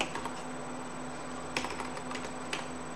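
Typing on a computer keyboard: a few faint, scattered key taps over a steady electrical hum, with no voices.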